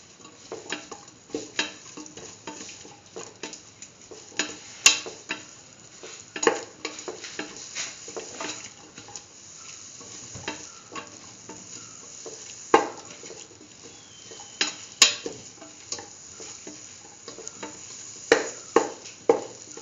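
Spoon stirring spice mixture through chayote and green peas rice in a pan, a steady run of scraping, patting strokes with soft sizzling underneath, close and alone without talk.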